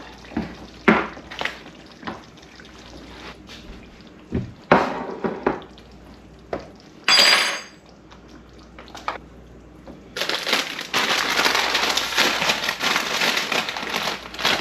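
Chili for Frito pie is scooped from a pot in a run of close, wet knocks and scrapes with brief pauses, followed by a louder stretch of rustling, crinkling noise.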